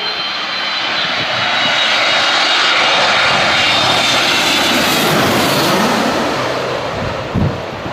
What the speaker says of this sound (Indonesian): Wah, ada pesawat, teman-teman.